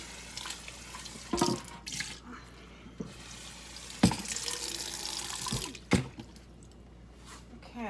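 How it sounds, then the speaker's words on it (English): Tap water running into a kitchen sink while a pitcher is rinsed out, a low steady flow broken by a few sharp splashes and clunks of the pitcher, close by, no voices. "I'm going to go ahead and rinse this pitcher out a little bit and get it over into the sink."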